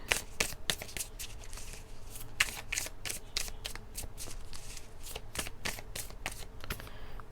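Tarot cards being shuffled by hand, a rapid run of crisp riffling bursts and papery slaps repeating close up over a low steady background hum, with no talking.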